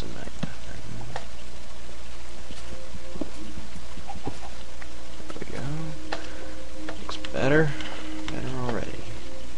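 Chicken clucking in Minecraft, a few short clucks and squawks scattered through the second half over steady game ambience, with a person talking at times.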